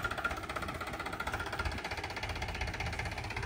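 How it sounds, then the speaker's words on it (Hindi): A tractor engine runs at a steady, moderately loud chug with a regular mechanical pulse, continuous throughout with no talk. "ट्रैक्टर चला रही है भाई"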